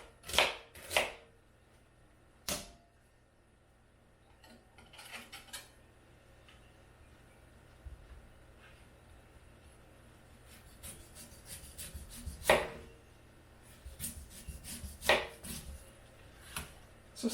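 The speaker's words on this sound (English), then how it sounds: "And now we're going to chop up the celeriac." A knife chops celeriac on a board in sparse, hard knocks: a few quick strikes, a pause, then a denser cluster of cuts, close but fairly quiet against a low room hum.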